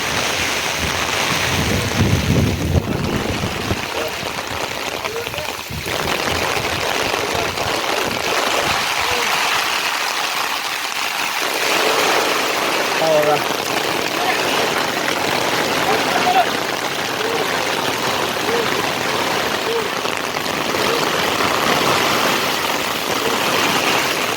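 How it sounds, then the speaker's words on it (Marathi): Loud, steady rush of heavy monsoon rain over Konkan paddy fields during rice transplanting, a dense broadband hiss that surges briefly near the start and carries on without pause. "पाऊस अचानक येतो आणि अचानक जातोय जोरात आलाय"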